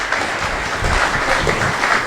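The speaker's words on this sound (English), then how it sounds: "Round of applause for the people that came before." An audience applauds at a science debate event, a steady wash of clapping from a crowd filling the whole moment without voices on top.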